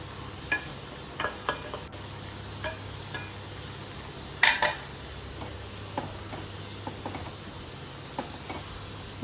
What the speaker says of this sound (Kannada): ಮಶ್ರೂಮ್ನ ಹಾಕಿ ಮಿಕ್ಸ್ ಮಾಡ್ತಾಯಿದ್ದೀನಿ